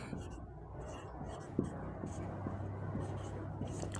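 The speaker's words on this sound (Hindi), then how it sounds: "तो यहाँ पर लिख देंगे" Marker or chalk writing on a board during a Hindi-language class 9 maths lesson, faint scratchy strokes with a brief sharp tap, under a low steady hum and soft room noise.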